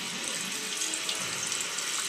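Tap water runs steadily into a sink as it warms for a Neti Pot sinus rinse, a continuous close-up hiss and splash with no talking.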